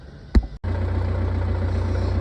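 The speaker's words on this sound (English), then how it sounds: "That's my motor running right down there." A boat's marine engine idles steadily after a loss of power at sea: a low, even, rhythmic throb that starts up after a brief gap, preceded by a short knock and a softer hum.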